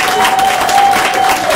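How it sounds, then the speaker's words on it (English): Steady, loud applause from a crowd at a school award recognition, continuous clapping throughout with no talking. "So give yourself a round of applause."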